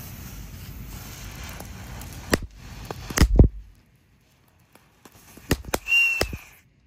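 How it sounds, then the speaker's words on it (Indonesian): A Tank Thor firecracker launches on a Ramadan night with a few sharp cracks and pops, a brief whistling hiss, then a short burst of crackling, close and loud between silent gaps. "untuk yang pertama kita nyalakan adalah mercon Tank Thor"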